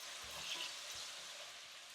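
Pumpkin, baby carrot and pimento pepper frying in a pot over high heat, a close, steady crackling sizzle with a couple of soft stirring knocks and no talk.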